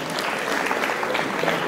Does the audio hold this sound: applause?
yes